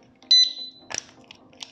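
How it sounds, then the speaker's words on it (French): Motorcycle disc lock alarm arming, a short loud electronic beep followed by a few softer chirps and clicks as the lock is handled, close and alone. "on voit que l'alarme se met en route"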